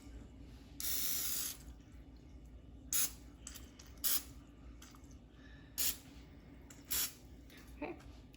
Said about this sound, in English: I have some canola oil spray. I'm just gonna lightly grease it,